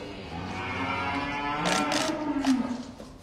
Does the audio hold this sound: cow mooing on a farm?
yes